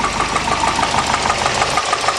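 A Volvo turbo car engine idles steadily after rough use, giving a close, even mechanical rumble with a faint knocking pulse and no talking.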